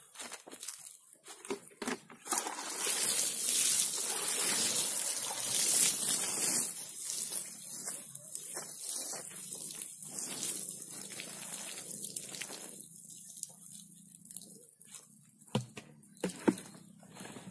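Water splashes and trickles as curly red chili seedlings for highland growing are watered by hand. A soft, steady wash of pouring and splattering runs for most of the stretch, then breaks into scattered drips and patters, with no talking.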